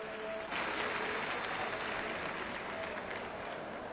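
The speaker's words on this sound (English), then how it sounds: "Fans still politely applauding Jacob." A crowd of motorsport fans at a final round in Mexico claps politely and continuously, a soft, even wash of applause from a distance with no breaks.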